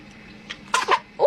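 A baby gives a couple of quick, small sneezes up close, short soft bursts followed by a faint vocal sound at the end.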